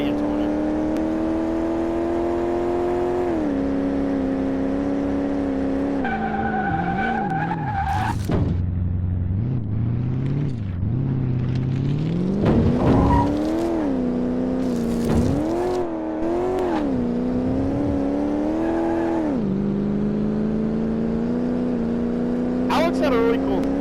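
Mercedes-Benz SL Pagoda driving in a video game, its engine droning steadily with rises and dips in pitch as it accelerates and turns, plus bursts of tire skidding, continuous and fairly loud throughout.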